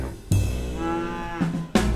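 Cattle moo on a farm, a long, loud, close bellow followed by further lowing calls, with no talking.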